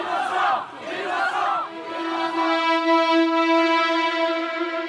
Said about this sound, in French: À l'extérieur, la foule n'a qu'un mot, innocent.